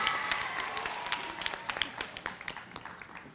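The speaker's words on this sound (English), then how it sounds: "Thunderous round of applause for Mr." Parents and guests at an elementary school moving-up ceremony clap, a moderately distant patter of many hands with individual claps standing out as the applause thins toward the end.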